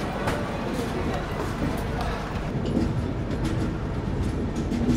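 New Jalpaiguri–Chennai Central SF Express (22612) running after leaving Bankura station, heard from on board as a steady broadband rumble with faint rail clatter, a voice murmuring underneath.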